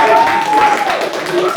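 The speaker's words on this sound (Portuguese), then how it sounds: "Uma salva de palmas para o Denis e Rafael!" A studio audience on a TV show applauds guests as they arrive. Moderate clapping runs under voices, and a host's speech and a tonal cheer overlap the applause.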